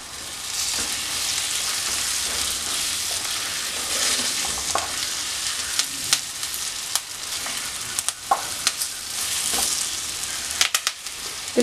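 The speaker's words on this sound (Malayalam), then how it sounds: "അല്പം കറിവേപ്പിലയും കൂടെ ഇട്ട് കൊടുത്തിട്ട് വീണ്ടും നന്നായിട്ടൊന്ന് മിക്സ് ചെയ്തെടുക്കാം" Prawn roast frying with curry leaves and garam masala, a loud continuous hiss of sizzling oil with scattered spoon scrapes and clicks growing busier toward the end, close and without voices.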